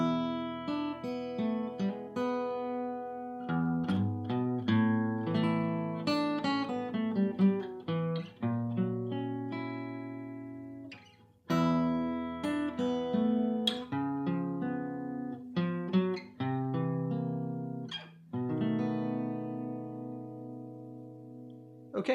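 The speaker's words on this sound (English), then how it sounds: "I'm going to start off demonstrating the intro section" Guitar plays the intro of a song in a lesson setting, clean plucked notes and chords ringing in a steady flowing pattern for about twenty seconds, alone with no talking.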